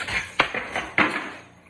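A whisk beating whipped coffee in a bowl, quick metallic clinks and taps against the sides in an uneven rhythm, close and clear with no talk.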